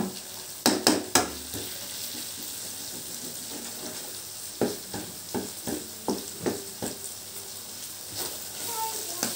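Onions softening in a little oil in a pan while cooking Soto Madura with beef bones, a steady low sizzle with several sharp stirring clacks of a utensil against the pan, close and fairly quiet.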